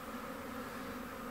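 Bees buzz in a steady, faint drone around a beehive in the sun, a continuous even hum with no voices.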